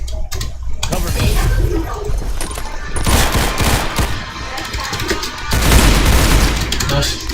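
In a shooter video game, a grenade blast and bursts of rapid gunfire boom repeatedly, loud and dense, with heavy low-end explosions and rattling automatic fire surging in waves.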